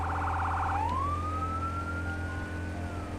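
A video game fire truck siren: a rapid warbling abruptly switches to a long, rising wail that holds steady, loud and close over a constant low engine hum.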